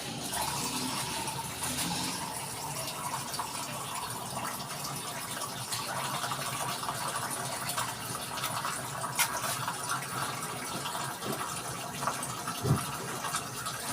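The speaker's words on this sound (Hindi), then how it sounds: "थोड़ा सा हम इसके बीच में पानी डालना है, थोड़ा साइडों में पानी डालना है" A steady stream of water poured into a pot of chicken tikka biryani, a continuous soft gushing and splashing that runs unbroken and fairly faint throughout, with no voices over it.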